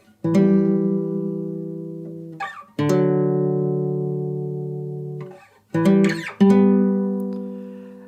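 Three sustained guitar notes or chords from a song in The Last of Us Part 2 ring out one after another, each plucked sharply and left to decay slowly, with no talking.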